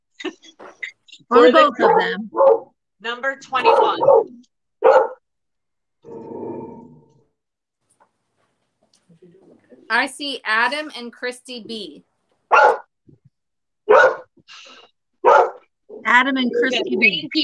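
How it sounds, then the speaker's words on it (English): A few sharp dog barks break out among stretches of talking during a live vintage sale, the barks loud and brief with pauses and speech in between. "Sorry about the barking."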